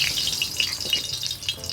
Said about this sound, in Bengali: এখন আমি আলুগুলিকে ভেজে নিচ্ছি।